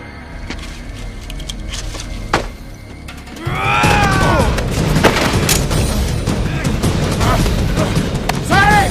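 Sharp gunshot cracks in a film scene, one or two loud reports followed by rumbling, clattering commotion that continues at high level.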